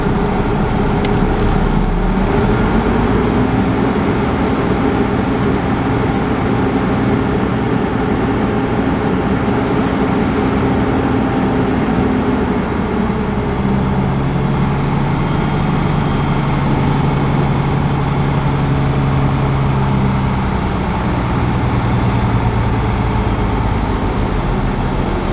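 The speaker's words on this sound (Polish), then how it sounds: "Teraz mu dodam troszkę gazu." A big MAN Euro 5 diesel truck engine rumbles steadily up close, its low drone lifting slightly in pitch as the throttle is nudged, then settling again.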